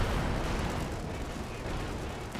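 IL-2 aircraft strafing run in Company of Heroes 2 on the Road to Arnhem map: a dense, continuous roar of rapid gunfire and blasts, loud and close, sustained throughout with no pause.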